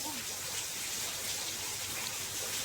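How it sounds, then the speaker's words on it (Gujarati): Steady rain hisses down close by in a continuous, even wash, with no talk. "એટલો વરસાદ આવ્યો."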